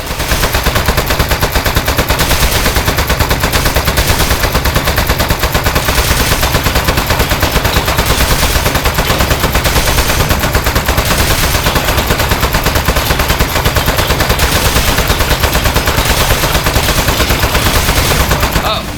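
Turret opening fire in the Portal spin-off game Aperture Desk Job, a loud, unbroken barrage of rapid automatic shots running the full length with no pause.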